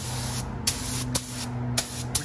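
Spray paint hissing steadily onto the engine bay of a Honda Civic outdoors, a continuous close hiss with a low hum underneath, broken by four short sharp bursts as the nozzle is pressed.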